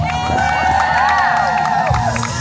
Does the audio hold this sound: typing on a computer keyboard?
no